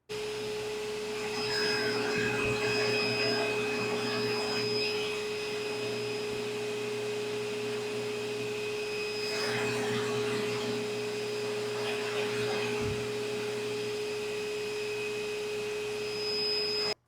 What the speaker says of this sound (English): we'll let this dry and we'll put it on the buffer